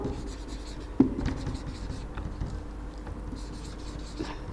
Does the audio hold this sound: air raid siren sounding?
no